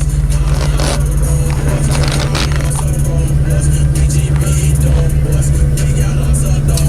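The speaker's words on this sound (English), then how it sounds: "I'm gonna let y'all hear these exhausts take off" A Ford Mustang's exhaust rumbles with a deep, loud, steady drone, heard close up from inside the car as it pulls away.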